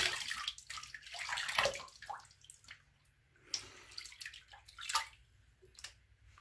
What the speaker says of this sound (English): Ooh, splattering water everywhere.